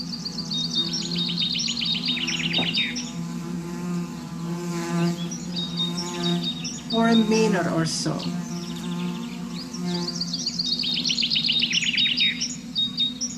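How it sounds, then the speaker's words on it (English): Birds chirp and sing steadily in the background, with repeated high tweeting phrases, while a calm voice speaks briefly over them. "the sounds of the birds."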